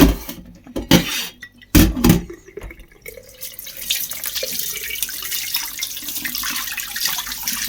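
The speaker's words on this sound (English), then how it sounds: "basically washing it all the way through, washing the buttermilk out of it with the cold water." Cold tap water runs over homemade butter as it is kneaded and washed in a kitchen, with sharp splashes and squelches early on giving way to a steady close stream.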